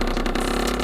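A 50cc motorbike engine given a burst of throttle while riding at low speed for a wheelie, a loud, steady, buzzing drone that is close and continuous through the whole short moment.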